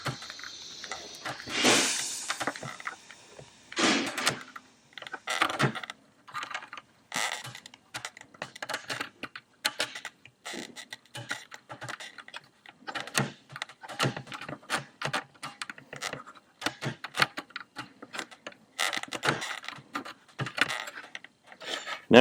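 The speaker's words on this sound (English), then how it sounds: "So what we're going to do is try and scrape that out of there" Scraping melted, humped black plastic out of a device with a pick, heard as irregular close scratches, clicks and rasping bursts separated by short pauses.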